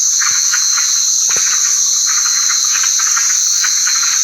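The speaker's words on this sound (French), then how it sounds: "Les grenouilles. Elles se sont toutes réveillées d'un coup." A dense night chorus of frogs croaking in rhythmic bursts beneath a loud, steady high insect drone in a Mexican jungle.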